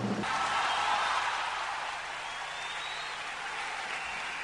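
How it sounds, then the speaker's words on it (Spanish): Studio audience applauding at the 2011 Copihue de Oro television awards in Chile, a sustained even wash of clapping that starts loud and settles to a steady level, with no voices over it. "les damos este cariñoso aplauso."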